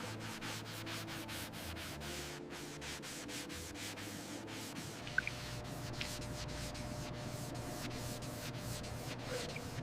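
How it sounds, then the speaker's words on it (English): Rhythmic back-and-forth rubbing of wet sandpaper on a 2005 Ford GT body panel, repeated strokes at a steady pace, fairly quiet and close. "Surface texture reduced through wet sanding."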